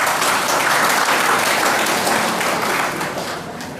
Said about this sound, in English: First, let me clap for those two students.